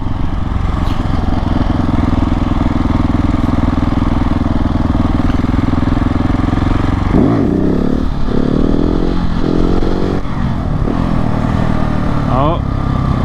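KTM 690 SMC R single-cylinder motorcycle fitted with a 15-tooth sprocket, engine droning steadily near the mic, then several sharp revving surges and drops during wheelies, with brief rising and falling pitch sweeps toward the end.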